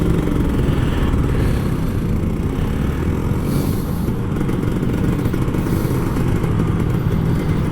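Kawasaki Ninja RR motorcycle ridden through Jakarta traffic, a loud, close, continuous engine drone with steady throttle and faint surrounding road noise, no talk.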